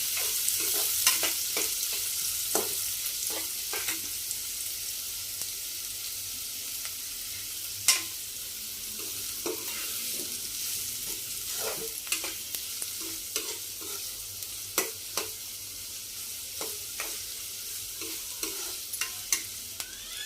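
Onions sautéing in a pan for a traditional taklyachi bhaji, a continuous soft sizzle broken by frequent sharp scrapes and taps of a spatula, close and alone without any voices.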